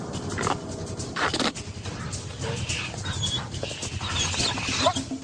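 Four dogs biting a digital bite-force meter, with growls, whimpers and snarling mixed with sharp thumps and scuffling, busy and close, with a human voice faintly underneath.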